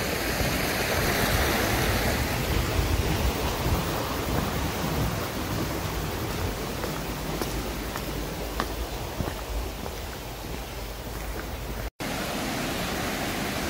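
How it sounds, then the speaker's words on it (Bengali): Water from a branch of the Kakochang Waterfalls in Assam flows steadily toward the plains, a loud, continuous broadband rush with no break or voices. "এখানে ওই সেই কাকচাং ওয়াটারফলসেরই কিছু শাখা প্রশাখা বেরিয়ে গিয়ে এইভাবে প্রবাহিত হয়েছে সমতল ভূমির দিকে"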